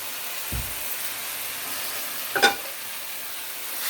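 Onion and grated coconut fry for a chutney, giving a steady sizzling hiss with a dull knock early on and a brief scrape of the spoon against the pan a couple of seconds later.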